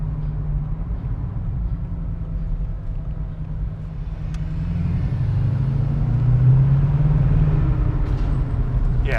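A 2021 Bugatti Chiron Pur Sport accelerating in second gear, heard from inside as a deep, steady engine rumble that swells and rises in pitch toward the end, with no voices.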